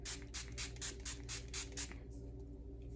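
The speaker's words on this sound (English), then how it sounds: "I'm going to spray my face with this" A rapid series of about ten short, hissing face mist spray bursts from a spray bottle in a steady rhythm, close and fairly quiet, ending in a faint fade.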